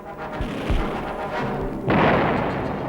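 Artillery fire in the Angola campaign of 1961 sounds as a few low heavy thuds over a rumbling background, then a broad loud blast that settles into a sustained roar.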